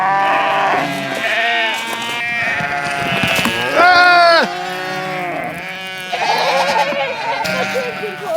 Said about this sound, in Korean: 허기진 배를 채우고 싶은 마음에 양과 염소들이 다투어 풀을 찾아갑니다.